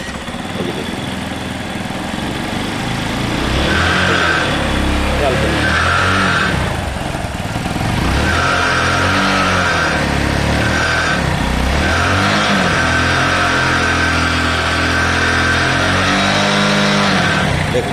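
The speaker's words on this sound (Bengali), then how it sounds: "দেখুন এখন আমি প্রথমে বাইকটাকে একটু স্টার্ট দিই" A motorcycle engine starts and runs loudly close by, idling roughly and revving up several times, with heavy smoke from the silencer, and a person talking over it.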